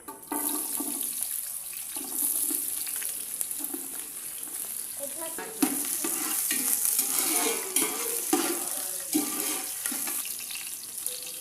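Fish pieces are mixed with chili masala for a Telangana-style fish curry, giving wet, squelching sounds that keep up steadily with some clatter.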